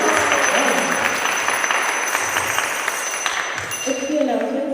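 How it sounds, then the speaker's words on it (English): A gathered congregation at a Sunday program applauds its sponsors, a loose wash of clapping that fades as a voice begins speaking near the end. "please give them a round of applause"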